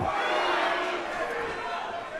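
A fight crowd at a combat sports event roars in a continuous, loud wash of cheering and shouting that swells early and then eases slightly.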